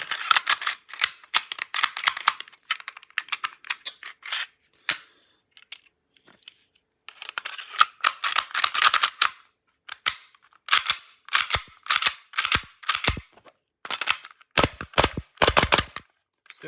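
A Tokyo Marui steel-slide Glock 17 Gen 3 airsoft pistol cycled by hand repeatedly, with sharp, close metallic clacks and rattling bursts in irregular clusters separated by short silences.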